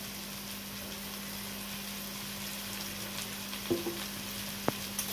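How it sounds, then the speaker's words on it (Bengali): Cumin and coriander powder stirred in a frying pan while cooking crab, a steady soft sizzle with a low hum running beneath, and a few brief scraping knocks of the spoon against the pan near the end. "এবার ভালো করে নাড়িয়ে চাড়িয়ে নিয়েছি"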